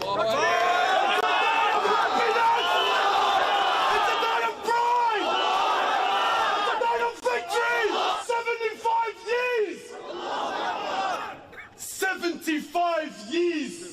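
A large crowd cheers and yells at a rally while someone shouts through a loudspeaker, loud overlapping voices in the open air that thin into scattered chanting bursts toward the end.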